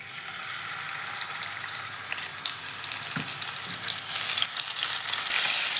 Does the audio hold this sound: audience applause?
no